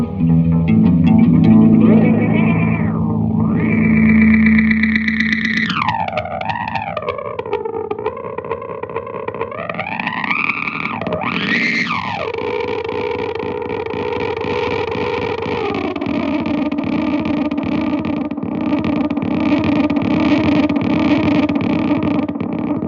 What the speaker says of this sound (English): you can have lots of fun with an echo pedal like this